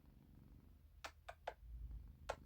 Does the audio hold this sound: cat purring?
yes